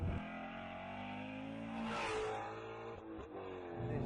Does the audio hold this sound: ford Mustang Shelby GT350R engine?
yes